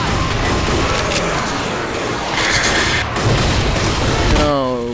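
Gunfire rattles steadily through a zombie battle in the Left 4 Dead co-op shooter, dense and loud with booming shots layered over chaotic game noise, while a player talks briefly near the end.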